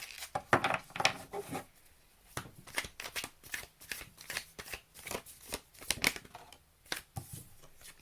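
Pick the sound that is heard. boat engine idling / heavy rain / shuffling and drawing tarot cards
shuffling and drawing tarot cards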